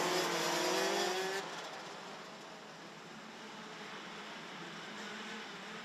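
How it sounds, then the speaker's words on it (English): Rotax-powered DD2 karts at a race start, a loud blended engine roar with a rising rev whine that drops away after a second into a steady distant drone. "the Rotax engines will now start to gather pace as they go up the rev range"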